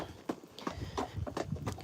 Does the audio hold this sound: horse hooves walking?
yes